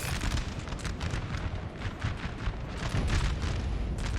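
Artillery in a strategy war game with French and Austrian forces: a dense, continuous rumble of overlapping booms and blasts, steady and fairly loud throughout.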